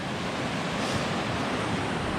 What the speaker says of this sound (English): down here at the bottom of the canyon, just enjoying the sights and the sounds of the Colorado River